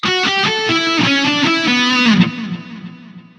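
Distorted electric guitar plays a quick phrase from a riff, a run of picked and hammered notes stepping downward before a final note rings out and fades, loud and up close.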